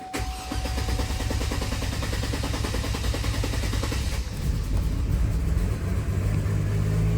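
A Chevrolet Trailblazer engine starts after its throttle body has been sprayed, then runs at a loud, rough, steady roar with a rumbling low end. The tone shifts slightly about halfway through.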